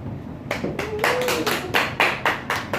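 A short burst of hand clapping, a few sharp uneven claps spread over a few seconds, fairly close and with no voices.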